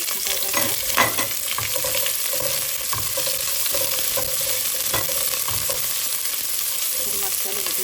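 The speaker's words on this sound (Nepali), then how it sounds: "हामीले यो हामीसँग भएको प्याज, खुर्सानी यसरी भुट्नु पर्दछ" Onions and chilies fry in a pan with a loud, steady sizzle, punctuated by scraping stirs and small pops close by, and no one speaks.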